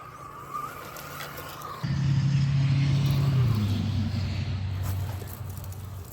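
A radio-controlled scale Jeep truck on an Injora chassis with a Spectrum 2-in-1 smart receiver ESC drives close by, its electric motor whining and then surging louder, the pitch holding before easing down as it rolls along.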